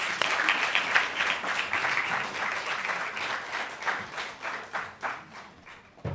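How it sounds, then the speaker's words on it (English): A crowd applauds steadily for several seconds, dense clapping that gradually thins and fades toward the end. "Please join me in giving her another round of applause."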